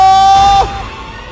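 A man's high, sustained scream from an animated Hindi horror story rings out loud and close for about half a second, then breaks off abruptly into a dull, quieter background.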